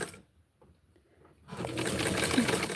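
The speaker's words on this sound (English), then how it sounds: "Let's see if I sew it a little bit closer here." A sewing machine runs a stitch along fabric for a garment's armhole, starting after a quiet pause and continuing as a steady close mechanical whir to the end.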